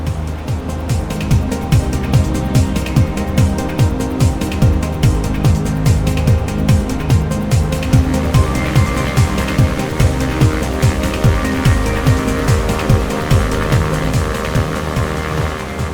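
Steady, loud engine drone from an aircraft climbing and accelerating in the X-Plane 11 flight simulator, with a regular pulsing beat running throughout and no talking.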